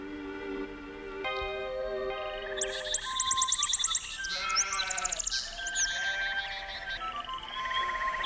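Several sheep bleat repeatedly, overlapping one another at moderate distance, while high bird chirps flutter above them.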